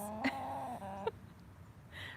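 A hen clucking in a barn, a couple of soft tonal clucks and a brief squawk, quiet and close with faint background noise.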